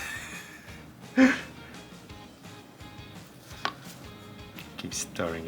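Thick, dried-out hobby paint stirred with a replenishing agent gives a few faint, close scraping strokes and soft sticky knocks spread over a quiet stretch, with no talking.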